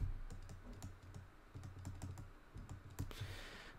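Rapid typing on a computer keyboard, a quick run of close, crisp key clicks with brief pauses, heard alone without voices.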